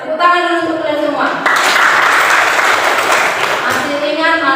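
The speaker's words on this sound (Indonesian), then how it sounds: "tepuk tangan dulu untuk kalian semua" Students clap together in a classroom during a lesson on global warming, a dense burst of applause lasting about two seconds, with a teacher talking just before and after.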